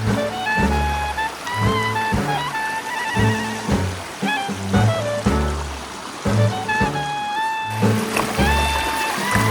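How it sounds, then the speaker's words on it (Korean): Water of a valley stream at Haok valley flowing steadily, a continuous rushing wash heard up close, with a layer of tonal sound running over it throughout. "물소리며 새소리까지 정말 완벽했습니다."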